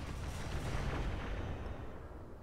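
Artillery fire in the mech game Roguetech rumbles in a continuous, low, booming barrage, steady and moderately loud throughout with no voices over it.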